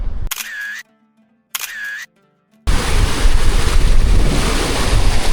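The Yasin River rushes near its source in the mountains of northern Pakistan, a loud, steady broadband roar of water that starts abruptly and continues unbroken after a couple of short camera shutter clicks.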